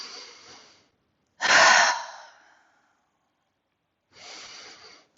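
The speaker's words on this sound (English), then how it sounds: "So take some breaths here, longer exhales." Slow yoga breathing: soft breathy exhalations come one after another with long pauses of silence between them, close and quiet.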